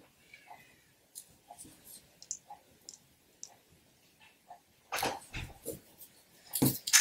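A dog comes home from a walk indoors, its claws clicking and tapping on the floor in scattered light bursts, followed by louder rustling and clattering near the end.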